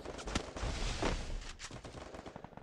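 A few gunshots in an online shooter game, faint and distant-sounding bursts with a soft rumble, fairly quiet overall.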